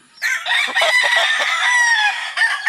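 A White Kelso gamefowl rooster crows once, loud and close, a long harmonic call held for over two seconds with a brief catch near the end, heard in a backyard breeder's pen.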